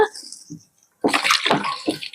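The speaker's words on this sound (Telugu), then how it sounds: "కొంచెం నీళ్లు పోసేసి ఇప్పుడు ఇది కలుపుకుందాం" Water is poured into a dough mixture of sugar, wheat flour and maida for kova malpua, a loud close splashing pour in broken bursts after a brief quiet gap.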